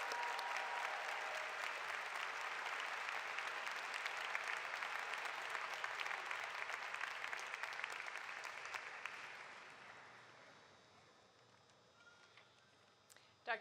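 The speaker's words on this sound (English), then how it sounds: "A round of applause for the DNP graduates 2017." A large ceremony audience applauds nursing doctoral graduates at a university commencement, a sustained wash of clapping that holds steady for about nine seconds and then fades to near silence, with one sharp sound at the very end.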